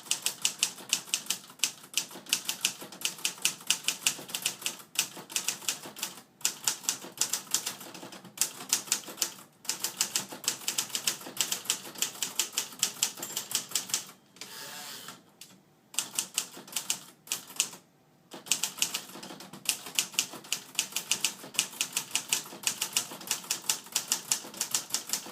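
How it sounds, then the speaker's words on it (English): A 1950s Remington Quiet-riter manual typewriter typed on steadily for about 25 seconds, dense rapid key strikes with brief pauses and a couple of short gaps, close and clear with no talking. "So let's do just a little bit of typing so you can get an idea about that."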